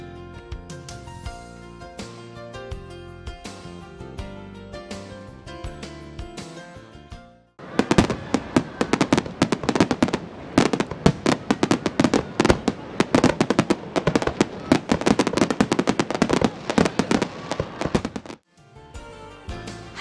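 Fireworks over a lake at a summer fireworks festival exploding in a dense, rapid barrage of loud cracks and booms, preceded by music and ending abruptly into quieter sound.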